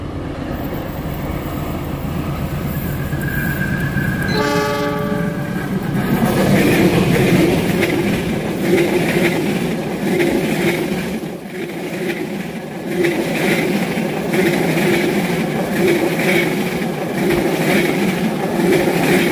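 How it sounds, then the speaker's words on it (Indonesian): The Lodaya passenger train rumbles past close by near Cibatu station, a loud steady roar with rhythmic clatter of wheels, preceded briefly by a horn-like tone. "Kereta api Lodaya saat ini sudah melintas petak stasiun Cibatu"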